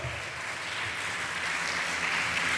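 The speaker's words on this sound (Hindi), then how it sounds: "जोरदार ताली के द्वारा पुनरुत्थित मसीह का हम धन्यवाद करें" A church congregation applauds together in dense, sustained clapping that holds at an even, fairly loud level throughout a Resurrection Sunday service.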